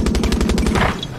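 Automatic gunfire from Far Cry 6, a rapid burst of loud close shots in a steady rhythm that keeps firing on its own, with no talk over it.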